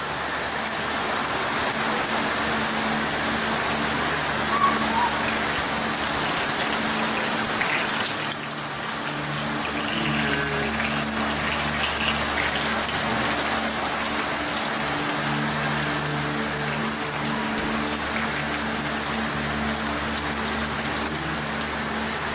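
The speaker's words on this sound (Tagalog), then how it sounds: "Lakas ng ulan ito." Heavy rain pours down steadily in a dense, continuous roar, with a low mechanical hum underneath and no voices.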